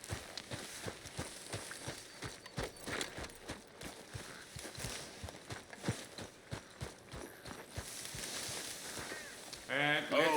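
Horse hooves clip-clop in a steady, moderately quick rhythm in Red Dead Redemption 2, fairly close and continuous, with a brief voice near the end.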